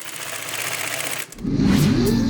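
A sewing machine stitching PVC runs loudly, stops briefly, then starts again with a steady mechanical whir.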